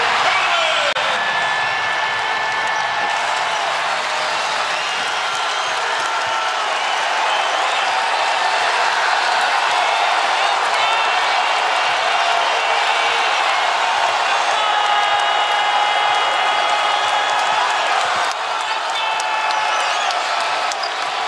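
Loud, sustained crowd roar and cheering inside a basketball arena at a college game, a dense continuous wall of voices filling the whole stretch with a play-by-play voice underneath.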